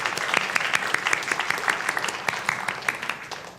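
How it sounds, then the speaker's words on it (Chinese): A church congregation at a Sunday service applauding a newcomer, a dense burst of clapping from many hands filling the room for a few seconds. "好，拍拍手。"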